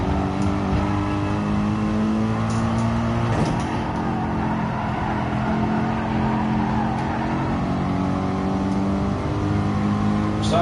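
A race car engine drones in GT Sport during an FIA Manufacturers Cup race at Barcelona, holding a steady, loud tone with slight pitch shifts as the car drives on, with a couple of faint knocks.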